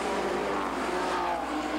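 BMW and Mazda race cars lapping the Mosport circuit in a 1998 Speedvision Cup round, a steady, loud, high-revving engine drone that holds without a break, with no one talking.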